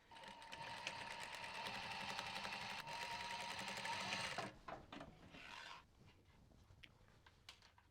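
A sewing machine runs steadily as it stitches fabric for a bumbag, buzzing continuously for about four and a half seconds and then stopping. Softer fabric handling follows, with a short burst of stitching.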